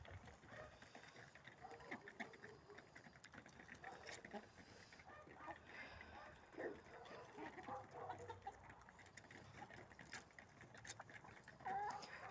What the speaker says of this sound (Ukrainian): Говорливі кури, звісно, дуже розговорчиві